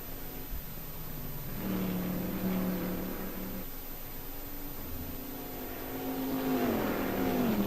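Race cars in a sim racing endurance event at Watkins Glen cross the finish line. Engine tones swell as one car passes, and a second car rises to a louder, higher whine near the end, with steady background noise underneath.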